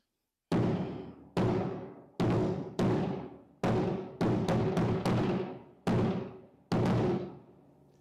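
Marching drum beat played in sections with accents and fill notes: about eleven sharp, booming hits in an uneven rhythm, some grouped close together, each decaying quickly, close and alone with no voices.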